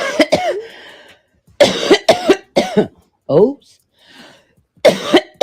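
Someone coughs several times in loud, close, harsh bursts with pauses between them, and a voice speaks briefly in between.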